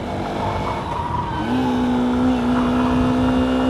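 A Honda Hornet 2.0 motorcycle with a slipper clutch downshifts, its engine note rising into a steady, loud drone that holds strongly through the rest of the clip.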